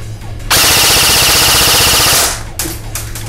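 A Double Bell M4 airsoft rifle fires a loud, rapid full-auto burst of nearly two seconds during a rate-of-fire test, with fast, even mechanical clatter, then a few quieter handling clicks.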